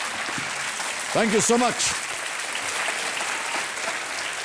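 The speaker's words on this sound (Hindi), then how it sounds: "तालियों के साथ हम आपका अभिनंदन करते हैं" Studio audience applause on a televised quiz show, a steady wash of clapping running throughout the clip, with a short spoken thank-you breaking through near the middle.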